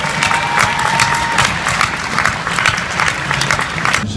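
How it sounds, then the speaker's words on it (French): A TV show studio audience applauds and cheers in a sustained burst of clapping, lively and continuous, with a few raised voices within the crowd. "donc applaudissez-le pour ça déjà"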